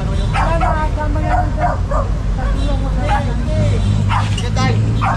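A dog barks and yips several times during a street clearing operation, with steady traffic and crowd noise behind and people talking throughout.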